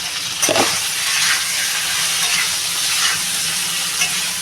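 Spices and green chillies sautéing in a hot pan, a constant sizzling frying hiss with a brief stir or clatter near the start, steady and close.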